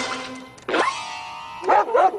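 A cartoon dog gives a few short, bright barks and yips in quick bursts, loud and close, separated by brief pauses, with no other sounds around them.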